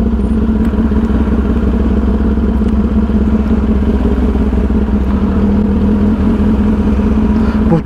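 A loud Kawasaki H2R motorcycle engine runs steadily close by, a deep throbbing idle with slight revving, continuous throughout with no talking.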